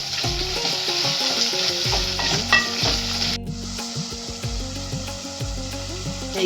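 Onions frying in a pan for a sea fish curry with poppy seed paste, a loud continuous sizzle with occasional stirring over steady background music.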